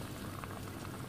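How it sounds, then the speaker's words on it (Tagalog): Beef stock for ampalaya con carne simmers in a covered pot, a faint, steady bubbling and gurgling at close range. "So, yung kumukulo na po siya."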